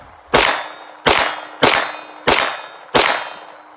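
Five sharp 9mm pistol shots at an outdoor range, each ringing off a steel target with a metallic clang and brief decay, spaced about two-thirds of a second apart.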